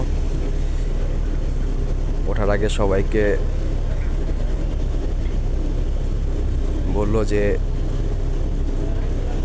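An airport shuttle bus carrying passengers across the tarmac to the plane rumbles along with a steady loud, low engine and road drone filling the whole stretch, while someone speaks briefly over it twice.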